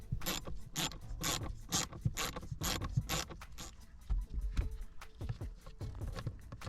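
Ratchet loosening a bolt while servicing a Ford car, heard as repeated bursts of sharp clicking in a steady rhythm, close up and fairly loud, with faint mechanical rubbing between strokes.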